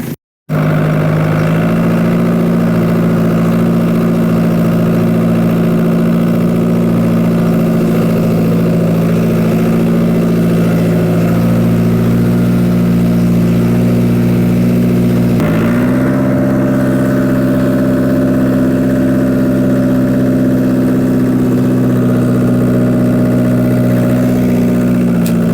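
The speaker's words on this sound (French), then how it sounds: "Je vais couper le moteur" A farm machine engine idles steadily at a chicken coop during cleaning, with a low, even drone that shifts pitch slightly partway through and runs alone without talk.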